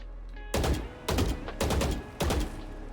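Four sharp bursts of gunfire striking a wall in Valorant, evenly spaced about half a second apart, each a crackling close impact with a quick decay, over faint game ambience.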